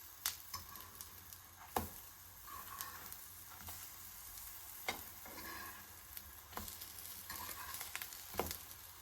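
Steady low sizzling of pancake batter frying in a heated pan, with occasional clicks and scrapes, fairly quiet and without any voices.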